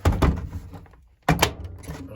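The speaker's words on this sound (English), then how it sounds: "close the door." The door of a Hotpoint Aquarius WMA37 washing machine being shut: a close, dull knock and rattle, a short quiet gap, then a second firmer thud with a brief clatter.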